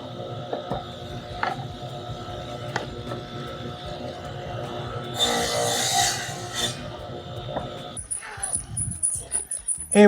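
Grooves being cut into metal parts for homemade bottle jacks: rasping, scraping tool noise with short clicks, a louder burst of grinding midway, then sharper irregular scraping and knocks toward the end, no talking.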